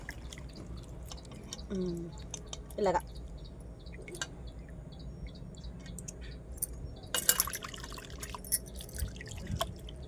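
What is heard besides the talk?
washing goat brain in water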